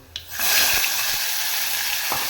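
Ground masala paste for a Malabar tamarind (kudampuli) rasam drops into a hot pan and sets off a loud, steady broadband sizzle that starts abruptly and holds, with a few faint clinks.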